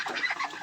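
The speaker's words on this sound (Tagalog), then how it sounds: "Yun yung alaga nating Peking duck." Pet Peking duck calling in short, close, repeated raspy squawks, a steady run of quacky cries with no pauses and no voices.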